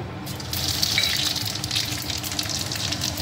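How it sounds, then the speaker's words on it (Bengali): Five-spice seeds hit hot oil in a wok, giving a steady, loud, hissing sizzle that runs unbroken throughout, close up and without talk. "এই যে কড়াই গরম হয়ে গেছে, এখন পাঁচমিশালি সবজিতে ফোড়নে দিয়ে দেবো 5 ফোড়ন"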